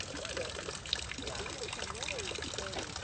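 Water pours steadily from a homemade cut-bamboo waterfall in a backyard, a constant splashing trickle heard up close while someone talks over it.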